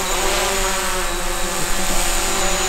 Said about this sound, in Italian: Vedrete che il drone si alzerà.